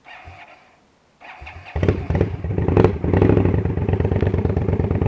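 A 2016 Indian Scout Bobber motorcycle engine cranks briefly, then catches and settles into a loud, close, throbbing idle with a steady pulsing rhythm.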